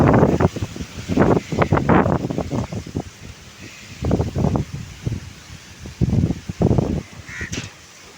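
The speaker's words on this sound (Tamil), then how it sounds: "ஏன் இவ்வளோ திடீர்னு இப்படி ஒரு காற்றுன்னு தெரியலீங்களே" Strong, sudden wind blows outdoors, strong enough to send a sack flying, and hits the microphone in heavy rumbling gusts that come in repeated bursts with short lulls between them.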